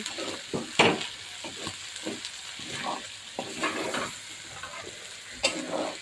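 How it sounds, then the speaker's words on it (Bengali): Lentils with garlic, turmeric and salt sauté in a pan under vigorous stirring, with a bright sizzle and repeated scraping strokes close up and no talking. "খুবই ভালো করে কষিয়ে দিচ্ছি।"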